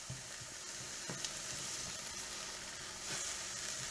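Mushrooms and kale sautéing in a pan, a continuous fizzy sizzle broken by occasional soft scrapes and taps of stirring, heard alone.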